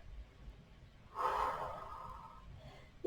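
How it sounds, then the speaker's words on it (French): A slow audible inhale through the nose during a lower-back and hip-flexor yoga stretch, close and breathy, lasting about a second before fading, with a short voiced sound right at the end. "On inspire."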